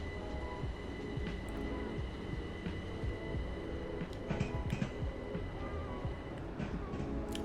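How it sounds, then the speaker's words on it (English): A Class 377 electric train in the game Train Sim World 2 hums and rumbles steadily at moderate volume, with occasional clicks and faint high whines over the running noise. "Love the sound of this train."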